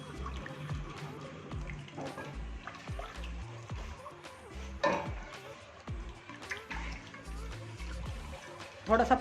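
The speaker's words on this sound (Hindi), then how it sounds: "थोड़ा सा पानी भी शामिल किया मैंने इसमें।" Water is poured into a white sauce of flour roasted with milk, stirred in a pan over low heat, giving soft trickling and splashing with utensil scrapes and clinks, close by and fairly quiet.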